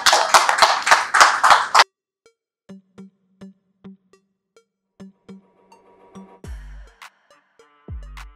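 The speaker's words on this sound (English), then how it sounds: "Let's applaud it." Applause from an audience at a press conference for a new song launch, a dense burst of clapping for about two seconds that stops abruptly, followed by quiet scattered taps and clicks and a couple of louder thumps.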